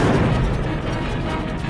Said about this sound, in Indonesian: Melihat hal itu, dengan membawa pelontar RPG, Om John kemudian membalas serangan.